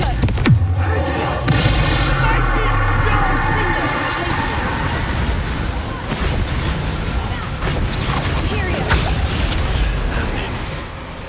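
Confringo blasting spell cast in Hogwarts Legacy, with repeated booming blasts and crashing bursts over dense, loud game combat noise, lasting throughout with no pause.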